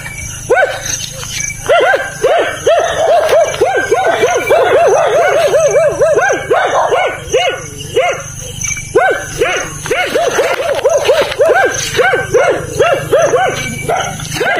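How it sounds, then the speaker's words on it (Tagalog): Many dogs barking repeatedly in loud, overlapping bursts close by throughout, outdoors at night during a spider hunt in the Philippines, with a person talking over them at times. "Yan, daming aso. Tumatahol na yung aso mga kapit."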